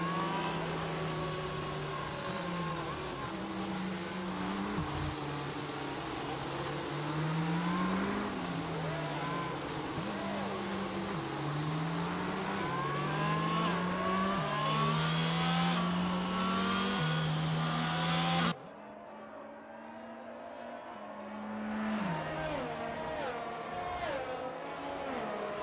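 Race cars bunched behind a red AMG Mercedes safety car in a racing video game at Miami, engines droning and revving in waves as drivers weave to warm their tyres, a steady loud roar that drops briefly near the end.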